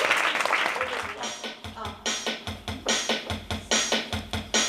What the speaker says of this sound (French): Déjà, on peut applaudir le groupe.